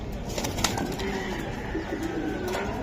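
Giribaz pigeons coo softly in a cote, low murmuring calls running under a steady background hum, with a brief flutter of wings.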